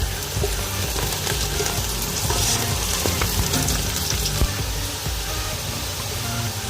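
Whole dried red chillies fry in hot oil for a lauki bhujiya, giving a steady, fairly loud sizzle with faint crackles and a few stirring knocks throughout, and no talking.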